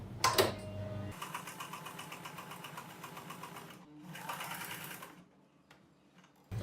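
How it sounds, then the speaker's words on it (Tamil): A sewing machine stitches the neckline of a kurti in two bursts of rapid, even mechanical whirring and clatter, with a short pause between them and a knock at the start. "இப்போ நம்ம இப்போ தொடங்கும் போது ஒரு லாக் ஸ்டிச் போட்டுட்டு இப்படி தொடங்கிப்போம்."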